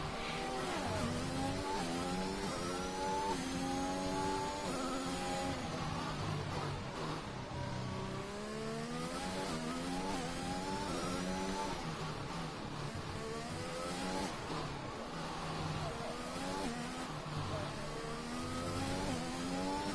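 Race car engine on a flying qualifying lap at the Azerbaijan Grand Prix, a sustained high-pitched whine that rises and falls through gear changes, steady and moderately loud for the whole stretch.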